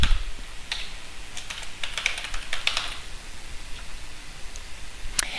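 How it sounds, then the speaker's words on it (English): Someone types an email address on a computer keyboard, quick irregular clusters of light key clicks over faint room hiss, close and without speech. "to sign into the Equity Mint platform, you just type in your email address"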